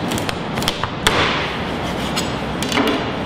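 A knife chops through raw chicken joints on a board, giving a few sharp thuds and taps, with one firmer chop near the middle.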